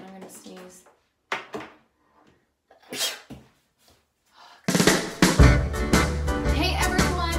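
A single sudden sneeze bursts out amid quiet pauses and brief vocal sounds, followed by louder, busy background noise.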